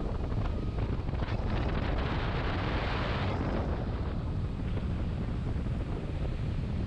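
Wind roars across the microphone on a Four Winns 258 boat running at about 50 km/h and 3500 rpm, a steady, dense rushing noise that never lets up.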